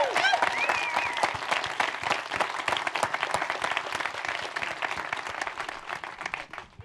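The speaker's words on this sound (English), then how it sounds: "Should we get a round of applause?" A room full of people gives a round of applause at a panel with a video game cast. The dense clapping carries a few whoops and cheers early on and tapers off toward the end.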